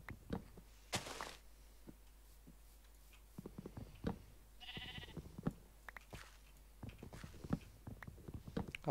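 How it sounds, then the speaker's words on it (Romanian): A few short Minecraft sheep bleats rise over a quiet background of thuds and footstep-like clicks, one bleat standing out clearly in the middle. "Am auzit cumva o oaie?"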